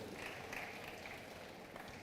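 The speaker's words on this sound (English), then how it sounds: "Clap for the institute." Audience at a school heads' annual conference clapping, a steady, dense wash of many hands held at an even level for the whole stretch, soft and somewhat distant.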